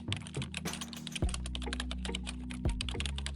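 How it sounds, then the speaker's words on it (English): Rapid typing on a computer keyboard, steady clattering keystrokes with a few heavier thumps, close and alone with no talk. "In the pop-up window, type TMMS oscillator"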